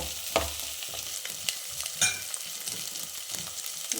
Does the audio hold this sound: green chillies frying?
yes